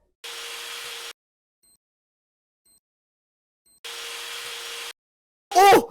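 Electric drill driving a screw: two short whirring bursts, each a little under a second, separated by a silent pause, then a brief loud vocal exclamation.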